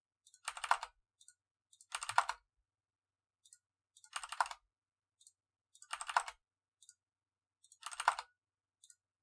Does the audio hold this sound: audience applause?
no